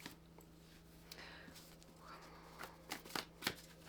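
A deck of journal prompt cards is shuffled quietly nearby, a faint run of papery riffles and flicks that builds into a few sharper snaps toward the end, with no talking.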